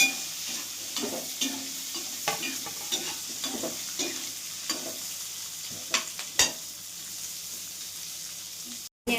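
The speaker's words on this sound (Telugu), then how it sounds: "ఆనియన్స్, పచ్చిమిర్చి, కరివేపాకు బాగా ఫ్రై, గోల్డెన్ కలర్ వచ్చేదాకా ఫ్రై చేసుకోవాలి" Onions, green chillies and curry leaves fry in a pan, a soft steady sizzle punctuated by repeated scraping clinks of a spoon stirring, close and alone.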